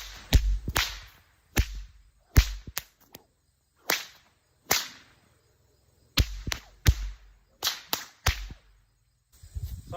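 Sharp whip cracks in a timed routine, about a dozen loud snaps in uneven clusters with brief pauses between, alone and close with no talking.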